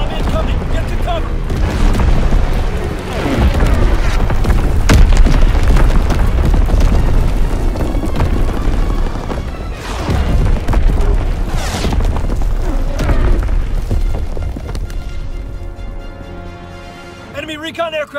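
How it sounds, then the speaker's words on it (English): Heavy artillery and bomb blasts boom through a Call of Duty WWII team deathmatch on the Sainte Marie du Mont map, loud and continuous with rumbling impacts and scattered gunfire, while game voices speak over the barrage. "Incoming enemy artillery. Get to cover. Enemy bomb incoming."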